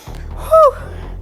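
A person exercising during a low-impact interval workout takes one sharp, loud, gasping breath up close over a steady low background hum.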